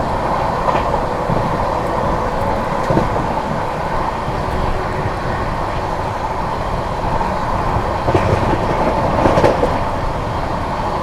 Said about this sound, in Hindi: एंड यहाँ पे 130 अपनी ट्रेन जो है अटेन कर चुकी है, मस्त भाग रही है फिलहाल तो